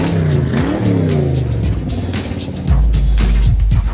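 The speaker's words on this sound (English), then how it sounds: "I guess that's a car, not really a motorcycle" A car engine revs hard with rising and falling pitch while tires squeal, loud and close, with a deeper surge of power near the end.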